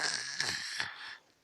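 A person imitates snoring with a raspy, nasal snort-like breath held for about a second, close and fairly loud, then trails off.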